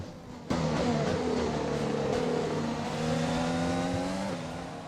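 Formula One race car engines screaming past in the F1 2020 video game at Melbourne's Australian Grand Prix, a loud high whine that starts abruptly and holds steady with shifting pitch.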